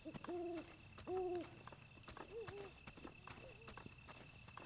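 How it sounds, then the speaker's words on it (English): An owl hooting in the game Zelda: Breath of the Wild, two clear double-note hoots followed by two fainter ones over quiet ambient background. "Is it just owl sounds and no actual owl?"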